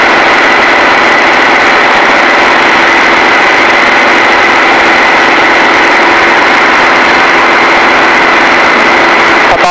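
A light aircraft engine with a constant speed propeller drones loudly and steadily in flight, a continuous dense roar heard from inside the cabin.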